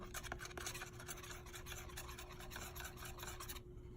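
A palette knife scrapes and rubs oil paint across a palette in a continuous gritty rasp, close and steady for a few seconds before stopping abruptly.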